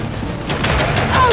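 Frag grenade thrown and detonating in the video game Gears 5, a burst of gunfire-like blasts and rumble over ongoing combat noise, with short electronic beeps before it.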